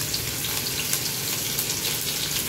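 Chillies sizzle in hot oil with mustard seeds and crushed garlic for buttermilk kadhi, a steady, close, loud frying hiss that holds unbroken with no talk.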